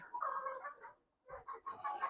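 Four-month-old Rhode Island Red and Kadaknath hens and roosters clucking on a farm, heard as two fairly faint bursts of throaty clucks with a short pause between them.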